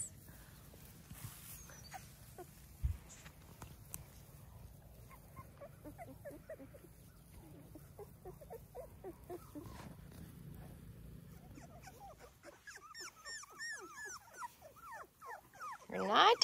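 Labrador and golden retriever puppies outdoors give faint, scattered whimpers and small yelps, thickening into a quick run of high whines toward the end, with a steady low hum underneath throughout.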